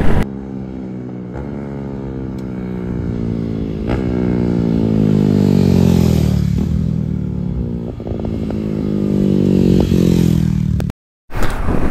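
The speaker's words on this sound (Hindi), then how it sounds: "बॉयज यहाँ पे ड्रैग रेस चल रही है।" Several motorcycles rev hard at a roadside drag race near Three Kings Church in South Goa, their engines rising and falling in repeated loud sweeping pitch climbs, close by and continuous, with a brief cutout near the end.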